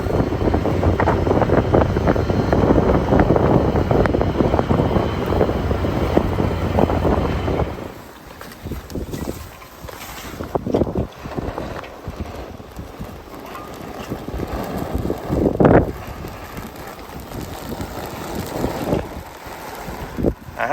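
Strong wind buffets the microphone outdoors while brush piles burn, loud and steady for the first several seconds, then easing into quieter gusts with occasional bursts.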